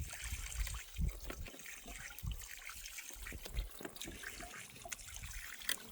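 Groundwater flows from a newly drilled well, a faint steady splashing trickle with occasional gurgles, heard outdoors at low level throughout.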